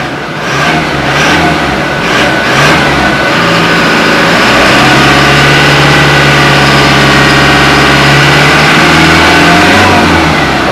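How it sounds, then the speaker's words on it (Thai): Engine of a 2017 Toyota Hilux Revo 2.4 E Plus automatic four-door pickup running close by, a loud steady idle hum with a brief rev near the start, then settling into an even, smooth drone. "เดี๋ยวไปลองฟังเสียงเครื่องกันดูนะครับผมว่ามีเครื่องสะดุดหรือเปล่านะครับ"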